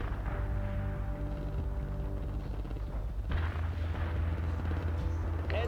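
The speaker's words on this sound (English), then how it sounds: "Target pinpointed. Commence artillery fire." A video game shows artillery fire: deep booms and rumbling blasts roll on steadily, loud and heavy, then a fresh burst of low thunder follows. No one speaks.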